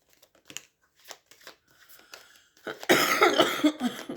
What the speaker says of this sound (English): Excuse me, it's really ugly when I cough.